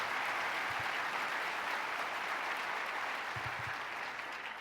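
A large audience at a state government address gives a round of applause, steady and dense clapping that holds at a constant level for several seconds.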